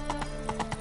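Horse galloping in The Witcher 3, a quick, rhythmic clip-clop of hooves at moderate volume over a brief stretch.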